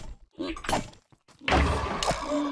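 A video game explosion in Minecraft's Fossil and Archeology mod: a heavy burst with a rumbling, crashing decay, preceded by shorter knocks and thuds, with no talking.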